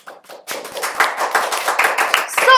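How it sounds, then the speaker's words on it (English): An audience applauds at a live talk on artificial intelligence: dense, steady clapping from many hands that swells and stays loud for a couple of seconds. "So let's clap for the audience as well,"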